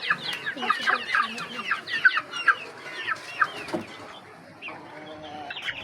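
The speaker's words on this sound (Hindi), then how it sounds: "देखिए कितने प्यारे चिक्स है, कितने क्यूट है" Chicks chirping nearby in quick, high, overlapping peeps that come in bursts and ease off toward the end.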